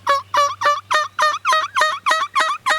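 A wild turkey gobbler lets out a long run of rapid, rattling gobbles, about nine pulses in quick rhythm, loud and fairly close with no voices.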